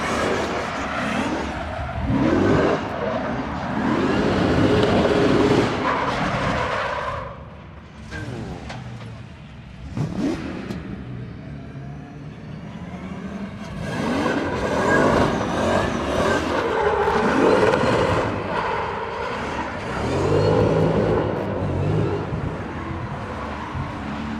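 A drift car revs hard and its tyres screech on a track, the engine surging and dropping in long passes, with a brief quieter lull before the noise builds again; a faint voice sits underneath.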